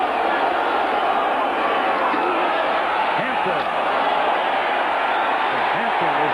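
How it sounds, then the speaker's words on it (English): Football stadium crowd at a 1985 Miami versus New York Jets game roaring continuously, fired up by Mark Gastineau, a dense, loud, unbroken wash of cheering from a packed stadium. "the crowd now is really fired up at the urging of Gastineau"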